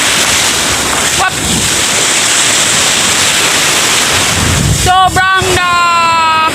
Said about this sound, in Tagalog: Sobrang laki ng alon. Alon lang talaga yung maririnig mo.